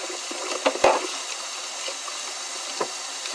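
Hot water running from a kitchen sink tap, a steady hiss of flowing water with a few brief clatters and splashes from dishes in the basin, recorded close by.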